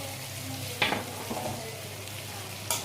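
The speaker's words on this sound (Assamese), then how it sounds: "ভাল ধৰণে লৰাই লৈ এতিয়া দি দিম বিলাহীখিনি।" Chopped tomatoes go into a pan of chicken cooking for a traditional Mishing dish, with a steady frying sizzle and a few brief stirring scrapes, close and fairly quiet.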